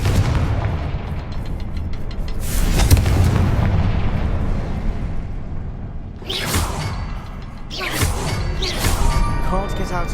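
Confringo blasting-spell explosions in Hogwarts Legacy, loud booming blasts with whooshes, one around the middle and a quick pair near the end, over a constant rumbling game backdrop.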